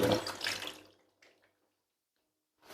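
Water splashes and pours loudly for under a second while grape leaves are readied for dolma, then fades into near silence with a faint trailing trickle and a brief return of noise at the end.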